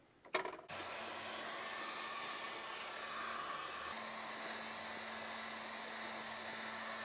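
A heat gun clicks on and blows hot air with a steady, even whoosh that continues unbroken, close and moderately loud, while prepping a main battery cable.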